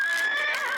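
A horse gives a short, high whinny with a wavering tone, close and clear, lasting under a second with no talking over it.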